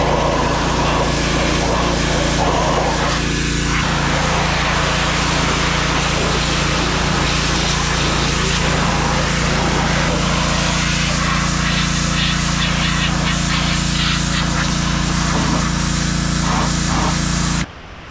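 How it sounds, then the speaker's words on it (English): A pressure washer runs steadily and loudly while cleaning the engine bay of a 1991 Foxbody Mustang drag car with a 302 HO engine, its motor drone continuous before cutting off abruptly at the end. "then I'm going to pressure wash it"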